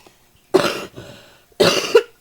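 Two separate, sharp coughs sound close and clear, roughly a second apart, each a loud burst that tails off quickly, with near silence around them.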